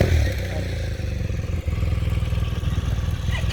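Adventure motorcycles ride past on a Lake District road, their engines rumbling loud and close with a chugging low throb and some rattle as they go by, without speech over them.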